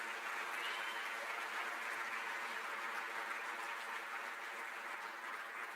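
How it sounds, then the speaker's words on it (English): Audience applause fills a hall during the 2021 Catawba Sports Hall of Fame induction ceremony, a steady, even wash of clapping that holds for several seconds at moderate distance without any voices on top. "Round of applause for these that have rejoined us."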